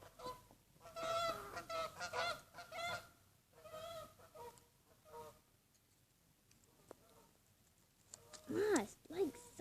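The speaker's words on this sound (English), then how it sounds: "here comes some geese" Geese honk in a front yard, several loud nasal calls in bursts up close, broken by quieter gaps, with people talking faintly in between.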